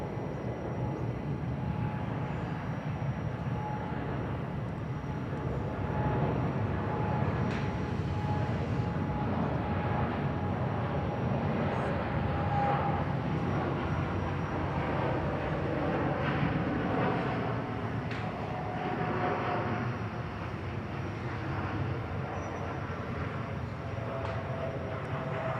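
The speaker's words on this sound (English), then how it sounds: "Lovely rotation and departure there from the Air France 787" An Air France Boeing 787 rotating and departing at Bangkok Suvarnabhumi Airport, a distant steady jet roar and broadband rumble that swells slightly and holds for the whole stretch.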